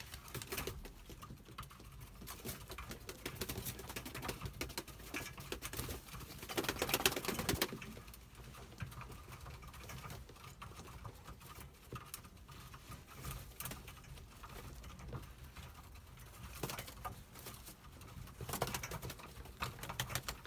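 Pigeons feed inside a mixed pigeon coop, with soft, low cooing and a light patter of pecking and movement. The sounds are faint and continuous, with a few brief louder rustles.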